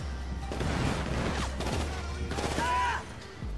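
Gunfire in the GTA 5 video game during a shootout at a house, sounding as a continuous, busy volley of shots with sharp cracks and rumbling booms throughout, loud and close.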